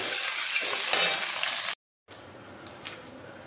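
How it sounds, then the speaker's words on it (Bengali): An egg fries in a hot pan for an egg momo filling, giving a bright, crackling sizzle that cuts off abruptly for a moment, then resumes softer and quieter. "এবার ডিমটা ভেজে ওর মধ্যে দিয়ে দেবো"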